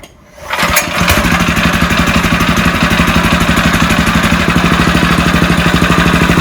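A DTZ 470BN walk-behind tractor engine starts and then runs steadily during break-in, a loud, close, rhythmic single-cylinder chug that holds an even pace throughout with no talking.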